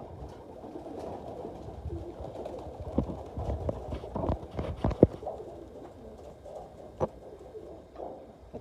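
Racing pigeons coo softly amid scattered flapping and shuffling sounds, with occasional sharper knocks close by.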